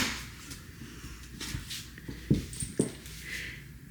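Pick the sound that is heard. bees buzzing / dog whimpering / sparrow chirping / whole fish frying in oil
dog whimpering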